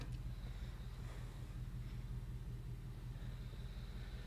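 A Ford Mustang V6 engine idling nearby in a tinting shop, a steady low rumble that stays even and continuous with faint background hiss.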